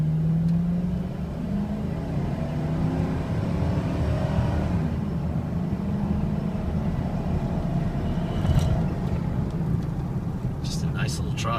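A small truck drives along a 25 zone, its engine whirring and climbing as it accelerates, with audible gear shifts, while someone talks over the engine noise throughout.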